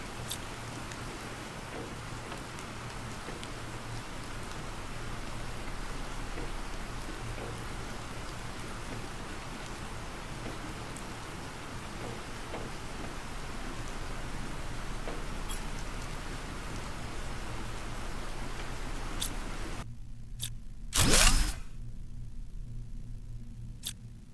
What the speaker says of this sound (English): the rain is hitting like a tin roof on the house at night